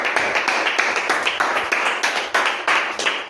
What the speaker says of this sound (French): Applaudissons encore plus fort,